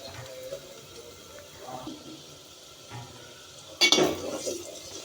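A spoon stirs ground coriander and cumin spice mix into frying masala for fish curry in a pan. Soft scraping and sizzling run steadily, with a louder clatter against the pan near the end.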